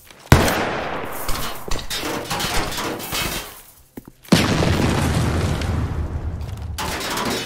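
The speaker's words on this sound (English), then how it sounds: "Flashbang out!" A flashbang grenade goes off in a Siege-style tactical shooter game with a sharp, loud bang, followed by a sustained harsh ringing roar; after a brief drop to near silence, a second blast kicks in and rings on.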